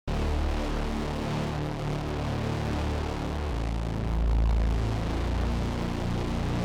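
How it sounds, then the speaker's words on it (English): A Reese-style bass built with a wavetable synth plays a thick, detuned, continuously droning tone, loud and steady, with a slow swelling low end and no voices. "I went with a Reese style bass that is made with wavetable."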